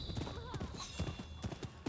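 Horse hooves clip-clop in a quick, even rhythm in the video game Rise of the Ronin, close and clear, with a faint whinny-like tone at one point.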